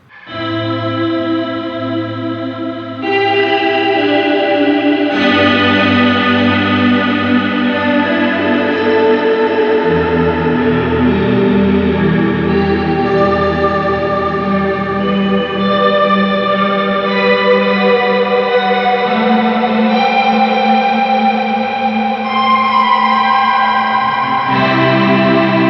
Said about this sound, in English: increase the feedback, so you're just gonna get more reverb and more reverb